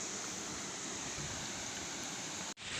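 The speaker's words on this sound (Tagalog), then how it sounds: "Tapos ilog na." Bamboo-lined countryside river running over rocks, a steady broad rush of flowing water heard close and continuous, cutting off abruptly near the end.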